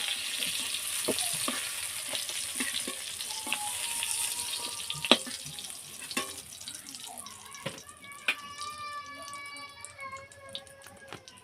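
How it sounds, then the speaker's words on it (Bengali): Pointed gourd pieces frying in oil, a soft steady sizzle with scattered clinks and scraping, fairly quiet, with brief bright tones late on. "একটু ভালো করে ভেজে নিতে হবে।"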